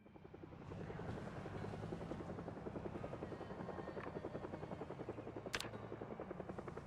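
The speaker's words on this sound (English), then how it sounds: "Helicopter back off. Clear the airspace." Helicopter in the video game Project Zomboid, a steady rhythmic rotor thump that rises quickly and holds loud and near overhead, with a brief sharp noise partway through.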